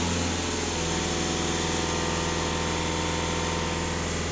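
A VW Jetta 1.6 TDI diesel engine runs on its own during an adaptation procedure, a loud, steady mechanical drone with constant pitch and no breaks, heard close.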